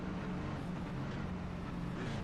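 Truck engines in an oval racing video game at Dover, a dense continuous low engine drone and roar at steady volume with no breaks.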